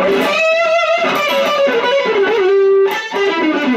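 Electric guitar with a shimmering, warbling chorus tone, playing sustained melodic lines and chords up close, loud and continuous with no voices.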